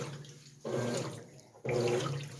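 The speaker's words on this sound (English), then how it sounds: "It looks like the washer is agitating good." A GE belt drive washing machine agitating, its water sloshing in surges that swell roughly once a second, close and moderately loud with no voices.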